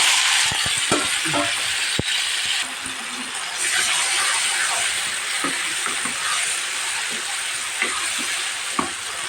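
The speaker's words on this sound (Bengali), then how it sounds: "এখন আমি এই কচু শাকটা আবার ঢেলে দিলাম" Taro leaves (kochu shak) tipped into a pan of hot spiced oil tempering, producing a loud, steady sizzle throughout, with occasional clicks and scrapes of stirring close by.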